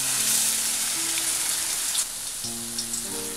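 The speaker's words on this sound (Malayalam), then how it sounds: "സവാള ഒന്ന് വഴന്നു വരട്ടെ." Onion sautéing in hot oil in a pan for a red spinach kofta curry, a steady close sizzle with faint crackles throughout and no talking.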